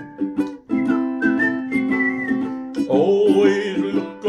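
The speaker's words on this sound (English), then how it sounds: "Just purse your lips and whistle, that's the thing." A bright, melodic whistled tune carries a song, loud and close, in phrased runs of sustained notes with a fuller section toward the end.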